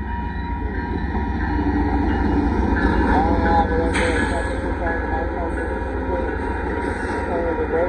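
The southbound Amtrak Texas Eagle 21 passenger train rumbles past close by at Dittmar Road in Austin, Texas, a steady low roar with rattling wheels and brief squeals, voices talking faintly underneath.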